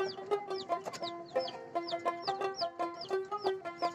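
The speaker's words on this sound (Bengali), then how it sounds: "এখানে আমি পাকিস্তানি মুরগি পালতেছি।" Pakistani chickens kept on a rooftop garden cluck in quick, repeated bursts, fairly soft and close, with several birds overlapping and no one speaking.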